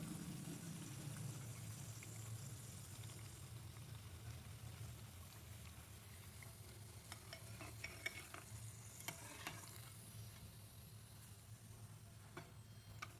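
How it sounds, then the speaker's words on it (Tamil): Potato fry pieces crisping in hot oil give a steady, dense sizzle throughout, with light scattered ticks and spoon scrapes near the end and no talking. "எண்ணெயில் இந்த மாதிரி பொரித்து எடுத்துக்கோங்க"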